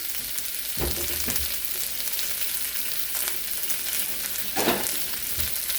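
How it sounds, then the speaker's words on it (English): Vegetables for a shrimp and zucchini stir fry sizzle steadily in a hot pan, with a few sharp scraping knocks from a stirring utensil, close and continuous. "So we're going to always stir fry."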